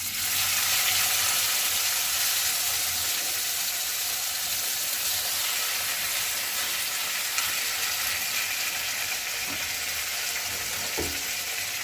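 Small fish, a lime-fish type, frying in a hot clay wok, giving a steady, loud broadband sizzle that holds throughout with faint stirring scrapes and a brief clunk near the end; no talking.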